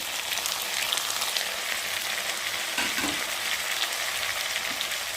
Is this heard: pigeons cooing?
no